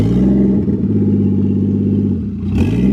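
A Toyota JZX100 Chaser, rebuilt after a wreck, drives with its engine droning loud and close in a steady mid-pitched roar. Near the end the pitch dips and then rises again as the revs change.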